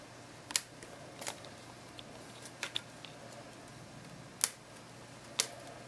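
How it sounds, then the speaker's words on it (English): Old epoxy and thread are peeled off a guide on an Ugly Stik fishing rod, giving a handful of sharp, close ticks and snaps spaced irregularly over a quiet background. "Now I'm just going to peel all this off now, which is just epoxy and old thread."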